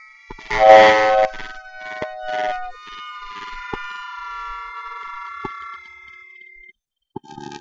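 Synthesized siren built in LMMS music software, loud rising and falling electronic tones that start with bright pulsing bursts and settle into long sustained pitches, cut by sharp clicks before fading out.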